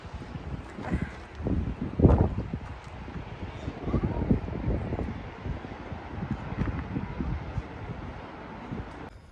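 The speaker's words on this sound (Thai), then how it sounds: "ลมเริ่มแรงแล้ว" Strong wind buffets an outdoor hillside trail near the top of a climb, roaring steadily into the microphone in uneven gusts with faint rustling and no clear talk.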